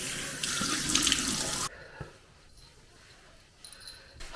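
Cold water gushes loudly from a tap for about a second and a half, then cuts off, leaving quiet room tone with a few faint clicks and small knocks.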